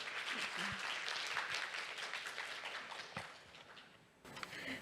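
Audience applause welcoming a speaker to the stage at a healthcare logistics luncheon session at a Korean biotech trade show, steady and fairly loud throughout, dropping off briefly near the end.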